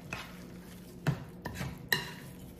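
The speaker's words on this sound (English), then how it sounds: "Okay, so we mix those up a little bit." Partly frozen hashbrown potatoes being mixed in a bowl, with a handful of distinct scraping and knocking strokes against the bowl spread over a couple of seconds, close and fairly quiet, with no voices.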